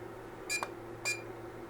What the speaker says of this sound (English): Once you turn it on, it will beep until it gets itself self-leveled.